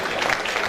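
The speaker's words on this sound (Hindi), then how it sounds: "जोरदार तालियों के बीच में स्वागत," Applause at a cultural meet: a brief, dense burst of clapping from an audience, steady and fairly loud throughout.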